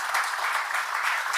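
Steady applause from an audience in a Barbados morning show setting, dense and continuous clapping without breaks throughout.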